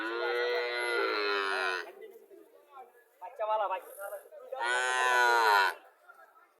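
Cattle on a dairy farm in Chauddagram, Comilla, moo loudly in two long, strong calls with a quieter stretch between them, while people chat faintly in the background.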